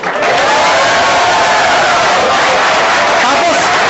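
A large audience at a corporate seminar claps and cheers in a loud, continuous roar of applause and voices that runs throughout without a break.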